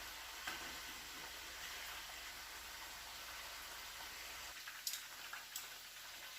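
Chicken wings frying in a pan give a steady, soft sizzle of hot oil throughout, with a few faint clinks and scrapes near the end.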